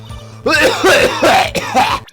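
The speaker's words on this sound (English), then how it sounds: "Of course, naturally, I'm going to start coughing." A person coughs several times in quick succession, loud and close, with a short throat-clearing quality and no words spoken.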